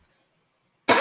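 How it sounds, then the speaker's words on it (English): A single sharp cough bursts in abruptly at the very end after near silence, loud and close. "Excuse me, I'm about to cough."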